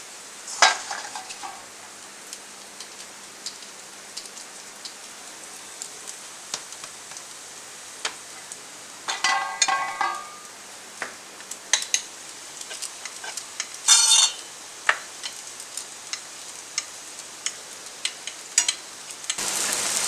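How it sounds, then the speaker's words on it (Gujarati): An aloo paneer paratha roasts on a griddle over medium gas, giving a soft steady sizzle broken by scattered clicks and scraping sounds of handling. "બે બાજુ એને શેકી લેવું આપણે. મીડિયમ ગેસ રાખીને"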